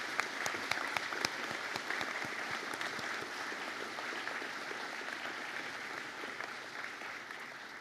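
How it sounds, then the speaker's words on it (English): New graduates applaud their families and friends at a university conferring ceremony, a few sharp individual claps standing out at first before the sound settles into a steady, even round of clapping. "I invite you, our new graduates, to perhaps give a round of applause to those"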